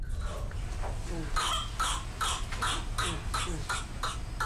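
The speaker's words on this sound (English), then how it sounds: "The body attempts to rid itself of this buildup by causing a violent coughing fit." A violent coughing fit typical of whooping cough (pertussis), a rapid series of about eight harsh, evenly spaced coughs in close succession, fairly near and isolated, over a low background hum.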